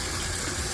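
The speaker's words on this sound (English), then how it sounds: "fill up a bucket with water from the cold side." Cold water runs steadily from a tap into a bucket, a close, continuous gushing splash with no pauses.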